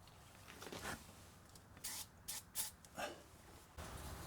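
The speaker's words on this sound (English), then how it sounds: "I'm just going to give a squirt into the intake manifold with a little bit of starting fluid." Short hissing squirts of starting fluid sprayed into the intake manifold of a 1972 Mercedes 300SEL 4.5, several quick faint bursts separated by brief pauses, nearby and quiet, with no talk.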